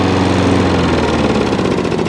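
A Hayter 56 petrol lawn mower engine runs steadily and loudly up close with the drive engaged, a constant throbbing mid-pitched drone with no talking.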